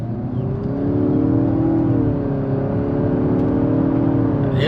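A 2023 Nissan Altima SR VC-Turbo with about 20k miles pulls hard under acceleration, its engine note climbing in a steady, continuous whir heard from inside the cabin, with no talking.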